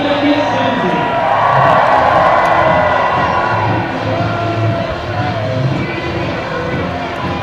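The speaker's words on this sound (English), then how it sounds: "A dream start for the home team and the home crowd, who rejoice" Home crowd at a university rugby match roars and cheers after a conversion kick, a loud sustained swell of voices with whoops and shouts that eases slightly while a commentator talks over it.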